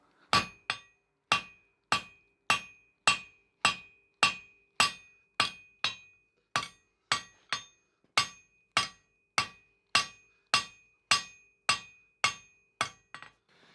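A blacksmith hammers hot steel into box jaw tongs at the anvil, a long run of about twenty-five loud, ringing hammer blows struck in a steady rhythm with bright metallic clinks, close up and with no talk.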